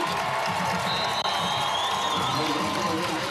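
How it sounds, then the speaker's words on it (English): A lively high school football crowd at the 2014 Prattville Lions at Baker Hornets game roars and cheers steadily in the background, while someone talks over the crowd noise. "this crowd's excited as well, and they are an early arriving crowd"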